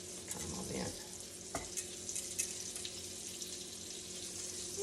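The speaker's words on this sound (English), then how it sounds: "when it sizzles like that" Deer cutlets sizzle steadily in a frying pan, a constant crackling hiss with a few soft clinks of utensils, close by and fairly quiet.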